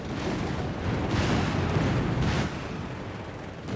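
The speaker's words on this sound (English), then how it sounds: "Panzer's gun is being mortared" Mortar and artillery fire boom and rumble in a Company of Heroes 3 battle against a Panzer, with repeated overlapping impacts and a rolling swell of explosions that eases off toward the end.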